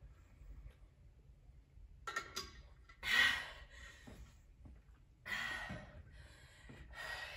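Heavy, ragged breathing after a full-body HIIT workout with a resistance band: a few loud gasping exhales separated by quiet pauses, close to the microphone, with no talking.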